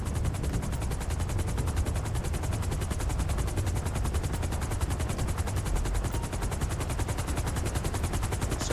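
Rapid, continuous gunfire rattles over the steady thumping drone of a helicopter in Grand Theft Auto V, loud and dense throughout with no pauses.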